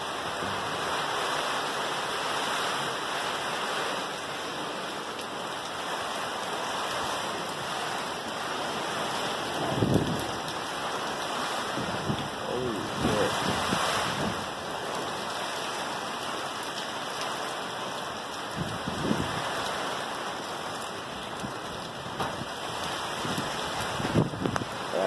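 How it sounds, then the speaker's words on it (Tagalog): Heavy rain and strong gusting wind from Typhoon Ulysses roar continuously at night in Angeles City, Pampanga, with occasional louder gusts and thumps surging through the steady wash. "hindi ako makatulog dahil sa lakas ng bagyo"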